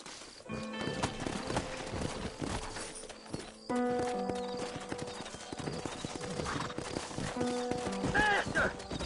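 Horse hooves in Red Dead Redemption clip-clop in a quick, steady trot, with musical tones playing underneath and the pace picking up partway through.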